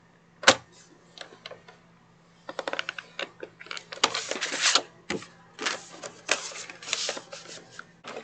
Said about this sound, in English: we're going to score the placemat at 4 3/4 on one side, flip it to the opposite side, and score at 4 3/4